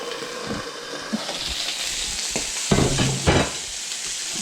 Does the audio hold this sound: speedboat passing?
no